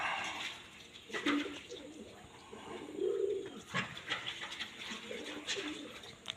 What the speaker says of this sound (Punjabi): ਕਾਲੀ ਕਬੂਤਰੀ ਵੀ ਲੰਘ ਗਈ ਆ